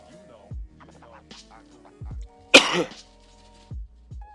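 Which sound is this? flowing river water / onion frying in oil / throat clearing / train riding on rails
throat clearing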